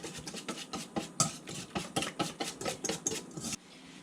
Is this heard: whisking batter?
yes